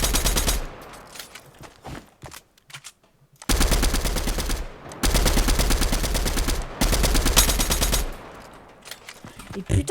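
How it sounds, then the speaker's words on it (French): Video game gunfire rattles out in loud, dense machine-gun bursts separated by brief gaps, with sharp repeated reports dominating throughout. "il nous tire dessus"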